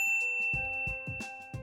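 A notification bell sound effect rings as a quick run of bright, clear dings, repeated several times in succession over a faint steady tone.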